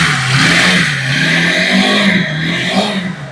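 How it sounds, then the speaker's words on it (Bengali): A Lifan KPR 150 motorcycle with an NVF engine revs close by, loud and steady, its engine note rising and falling slightly with no one speaking. "ইঞ্জিন সাউন্ড শুনলে বুঝতে পারবেন"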